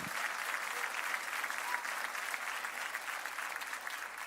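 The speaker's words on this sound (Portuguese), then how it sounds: "Quantos podem dar uma salva de palmas ao Senhor Jesus por isso?" A church congregation at Comunidade Cristã de Curitiba claps in praise during a Sunday service, a dense, even round of applause that carries steadily from start to finish without talk.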